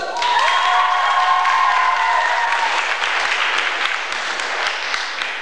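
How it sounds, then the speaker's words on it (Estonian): Audience at a contest show in Paldiski applauding a performer, loud dense clapping with a few cheers at first, then the clapping continues steadily and thins slightly toward the end. "Tubli, aplaus!"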